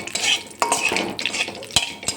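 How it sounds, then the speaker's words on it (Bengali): Mustard seeds and a dried red chili crackle and spit in hot oil in a pan, close and fairly loud, with irregular sharp pops and a stir or utensil clink over a steady sizzle, no voices. "তেলটা একটু গরম হলে এর মধ্যে আমি একটু সর্ষে আর একটা শুকনো লঙ্কা নিয়ে নিয়েছি। সর্ষে আর শুকনো লঙ্কাটা একটু ভাজা ভাজা হলে"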